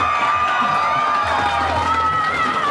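Crowd at a Bassmaster Elite fishing tournament weigh-in at Winyah Bay, South Carolina, cheering and whooping loudly and continuously, with scattered shouts and a high whistle over the dense roar.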